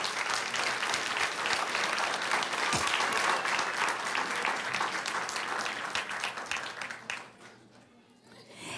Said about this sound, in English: Let's give all of the Davidson honorees a big round of applause.